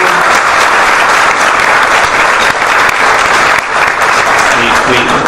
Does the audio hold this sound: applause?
yes